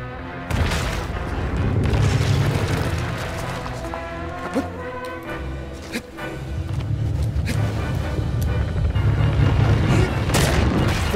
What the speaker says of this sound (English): He's destroying all the walls.